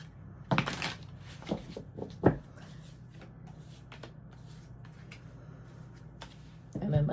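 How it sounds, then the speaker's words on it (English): Several quick bursts of tarot cards being riffled and shuffled close by, with short pauses between, over a quiet room hum. "Let's give a couple more shuffles."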